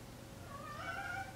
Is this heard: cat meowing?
yes